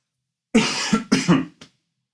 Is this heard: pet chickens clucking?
no